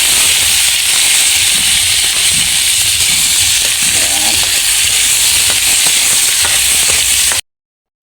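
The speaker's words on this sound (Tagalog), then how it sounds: "Gisa tayo ng sibuyas tsaka kamatis." Onion and tomato sautéing in hot oil in a pan, a loud, steady sizzle and frying hiss with faint stirring clatter throughout, cutting off abruptly at the end.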